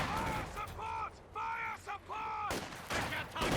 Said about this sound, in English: MG34 just suppressing the penals, trying to crawl out